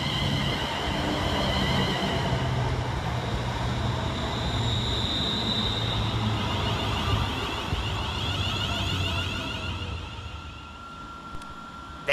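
Trains pass through Stechford railway station: British Rail Class 221 units run through while a Class 350 stops, giving a long steady rumble and hiss with rising tonal whine, fading slightly near the end.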